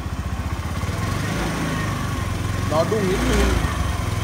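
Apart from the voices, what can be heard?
motorcycle engine started and idling after oil change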